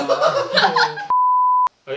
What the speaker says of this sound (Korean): 연결이 되지 않아 삐 소리 후